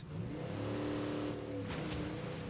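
A car engine in the zombie video game State of Decay 2 revs with a steady, close droning hum that rises and falls slightly, with no voices over it.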